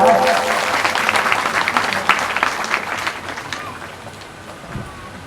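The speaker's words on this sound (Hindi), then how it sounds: "बजाइए ताली जोरदार।" Loud applause from the audience at an evening Shrimad Bhagavat Katha gathering in Patrapara village, dense and sustained at first and thinning toward the end, with a voice faintly audible underneath.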